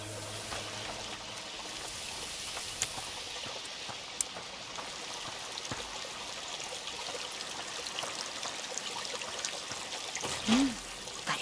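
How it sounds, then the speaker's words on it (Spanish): Spring water flows and trickles steadily in A Plague Tail Requiem, a continuous bright hiss of running water with faint game sounds and a brief voice near the end. "Agua de manantial."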